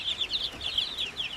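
Young chickens of Basilan and Zampen breeds cluck and chirp in quick, repeated bursts, close and fairly clear over a quiet background.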